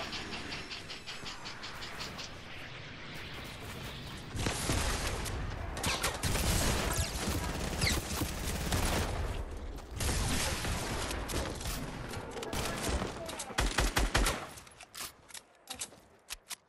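Sustained gunfire in the military shooter Squad, a dense clattering stream of shots with mechanical rattles and crackling bursts, loud and continuous before thinning into a few isolated reports near the end.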